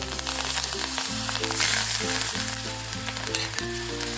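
Coriander hitting hot oil tempering for a rustic village-style eggplant bhaji, producing a steady, close, loud sizzle with no talking.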